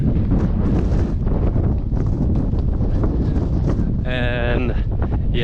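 Strong gusting wind buffeting the microphone on the Tongariro Alpine Crossing, a loud continuous roar with a brief tonal cry near the end.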